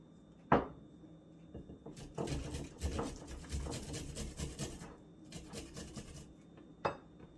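Fresh ginger is shredded on a grater for a ginger bug ferment in a kitchen, with bursts of scraping rasps repeating over several seconds, and a couple of sharp knocks and clinks of utensils at the start and end.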